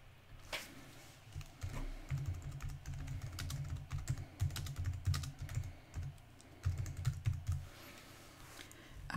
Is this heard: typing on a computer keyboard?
yes